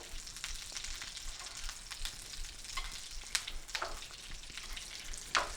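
Salmon sizzles in a pan while being basted with thyme and garlic, a low steady frying hiss broken by sharper spattering bursts as hot fat is spooned over, quiet and close.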